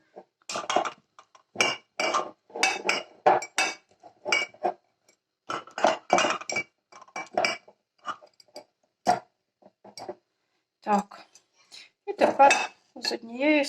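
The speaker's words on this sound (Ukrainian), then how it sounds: "гарненько трамбую в банку" Cucumbers are pressed into a glass jar in bursts of close, irregular clinks, knocks and rubbing sounds with short quiet gaps between them.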